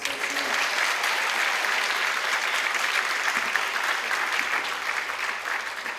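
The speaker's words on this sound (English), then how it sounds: "Can we please give them a round of applause?" Audience applause at an 8th grade spring concert for the school principal and assistant principals. Steady, full-room clapping runs evenly throughout at moderate loudness and fades slightly near the end.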